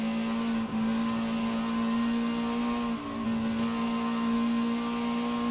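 A stock Lotus car in Forza Horizon 5 drives with a steady, droning engine note holding near-constant revs, with two brief dips where the tone wavers, loud and continuous without talk.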